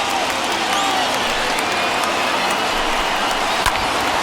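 A baseball crowd of over 29,000 at a Braves–Phillies game rises with a broad roar of cheering and clapping, sustained and distant-sounding across the stadium, with some faint voices mixed in.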